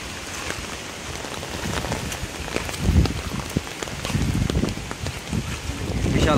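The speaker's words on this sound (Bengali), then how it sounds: "বিশাল হাওয়া দিচ্ছে, এই হাওয়ার মধ্যে থেকে ওপরে উঠতে হবে।" Strong wind buffets the microphone on a hillside trek, a continuous rough roar that swells louder toward the end, with faint scattered rustles and no clear talking.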